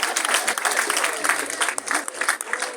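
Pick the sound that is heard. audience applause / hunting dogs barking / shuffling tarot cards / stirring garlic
audience applause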